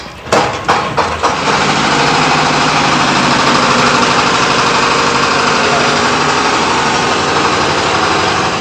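A large corn grinding machine engine roars loudly and steadily after a few sharp knocks at the start, a dense, continuous mechanical drone close by.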